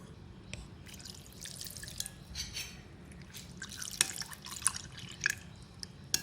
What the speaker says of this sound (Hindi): अब इसको मैं नीम गर्म पानी से वॉश करूँगी।